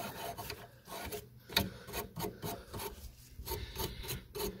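A little brush scrubs a rusty car brake line, making quick, irregular raspy strokes that are close and fairly faint, with no voices.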